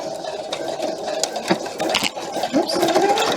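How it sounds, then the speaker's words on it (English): Sewing machine stitching a recessed zipper, running in a close steady mechanical whir with rapid needle ticking and small bumps in pace, no talk over it. "Drop the needle, drop the foot, start with the back stitch."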